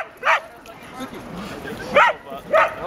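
Several dogs playing on a beach at Great Falls give three sharp, fairly close barks, one near the start and two close together near the end, over a steady outdoor background with faint lower sounds between them.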